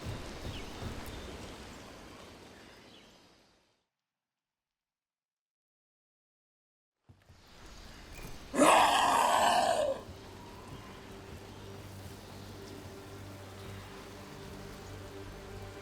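Steady rain falling in the video game Dragon Age: The Veilguard, a soft continuous wash that cuts out for several seconds, then returns with a brief loud burst before settling into an even patter.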